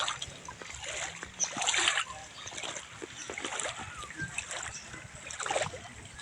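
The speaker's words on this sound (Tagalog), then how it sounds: "Dito ulit tayo sa ilog" River water splashing and flowing in a riverbed during a fishing outing, with bursts of splashing over a steady wash of moving water, fairly close, with no clear talk.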